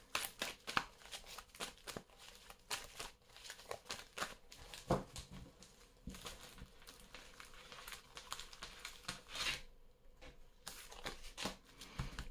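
Tarot cards are shuffled by hand for a card reading: a close, continuous patter of riffling and flicking card edges with uneven bursts and short pauses, and no voices.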